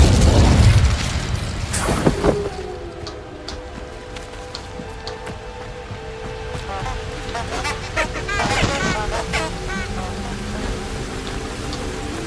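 An Incendio fire spell cast in Hogwarts Legacy bursts out with a loud whooshing blast at the start. Crackling and rumbling effects follow amid ongoing game sounds.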